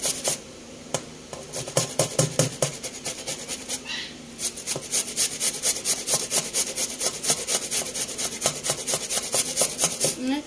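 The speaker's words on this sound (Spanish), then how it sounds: "Yo se la rayo con el más delgadito del rallador para que no quede muy gruesa la cebolla." Onion grated by hand on the finest side of a kitchen grater: rapid, rhythmic scraping strokes, close and steady, pausing briefly before continuing in an even run.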